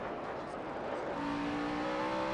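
NASCAR stock cars racing on the Sonoma road course, a loud engine roar rising in pitch as a car accelerates, with a steady high whine building in the second half.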